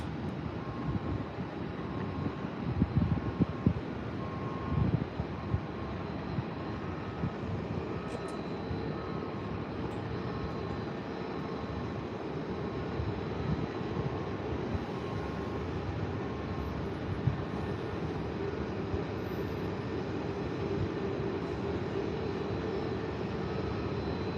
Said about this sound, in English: Breeze Airways on the roll.